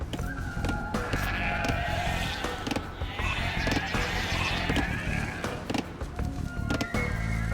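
Sheep bleating in the real-time strategy game Age of Empires II, a few short bleats sitting within a dense, steady bed of game music and ambient effects throughout.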